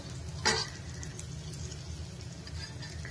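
Chopped capsicum, onion and spring onion fry in a pan for vegetable Maggi, giving a soft, steady sizzle. A brief clatter of a utensil sounds near the start.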